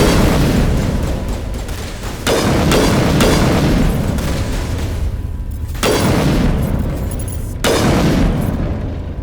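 Heavy booming gunfire and blasts from a squad laying down covering fire in Mass Effect Legendary Edition, loud and continuous with several sharp percussive hits spaced a couple of seconds apart.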